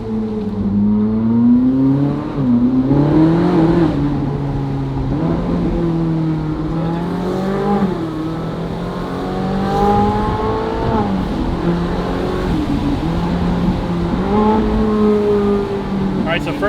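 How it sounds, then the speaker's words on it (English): A Ferrari 458 fitted with a Capristo exhaust revs with a high-pitched, rising and falling engine note, loud and close throughout, with voices talking over it. "The exhaust is definitely more pitchy."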